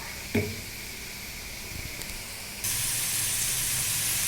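Noodles and vegetables simmer in a pan with a steady steamy hiss, broken by a brief clatter early on, then a louder, brighter hiss that holds to the end.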